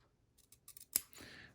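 Scissors snipping small notches into the seam allowance of a cloth face mask: a few soft quick clips ending in one sharper cut, close and quiet, with no talking.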